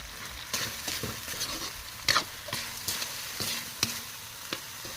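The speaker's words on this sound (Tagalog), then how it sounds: "Igigisa ko lang po ng kunting minuto." Kamias being sautéed in a pan, soft continuous sizzling broken by several scraping stirs and light clacks of the utensil against the pan, close and steady with no talking.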